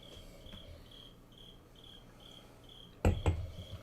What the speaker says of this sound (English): It's an actual live cricket.